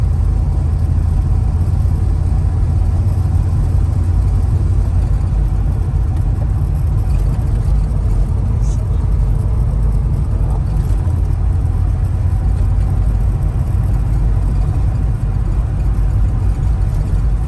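A restored black 1955 FJ Holden Special sedan cruises along the road, its engine humming in a loud, steady low drone with road and wind noise heard from inside the cabin.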